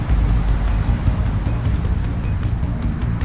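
Strong wind in the video game Minecraft with rain, a loud, steady, low roaring gust that fills the whole moment, with no voices.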